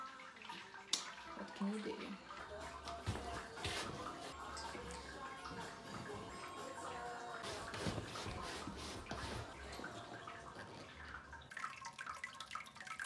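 Wort drains slowly from a stuck mash in a Grainfather all-in-one brewing system during a weissbier brew, a steady trickle and splashing of liquid with occasional drips and handling noises, with a voice briefly heard.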